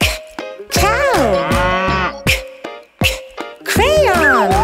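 Cow moos in several loud, close calls with rising and falling tones, spaced by short pauses, one mooing cut in between.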